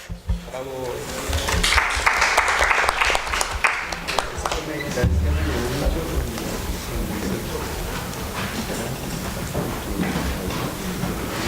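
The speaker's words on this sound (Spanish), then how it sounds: "Un aplauso para ustedes." Audience applause for a panel at a journalism discussion, clapping that swells over the first few seconds and then thins out, with talk and background voices over the fading claps.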